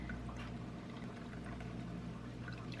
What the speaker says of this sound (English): you're going to take that boiling water and you're just going to pour it right in